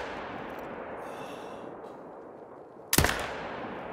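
A single loud, sharp Olsson Model 23 .308 rifle shot in theHunter: Call of the Wild, cracking out near the end over a steady outdoor ambience, with a brief decaying tail after the blast.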